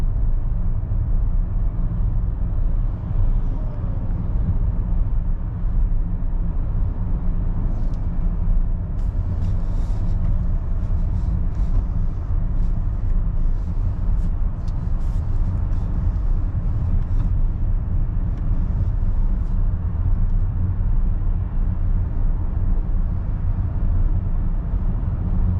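A 2022 Mercedes EQS 580 electric car drives on the road with a steady low rumble of tires and cabin noise and faint higher rattles, with no voices.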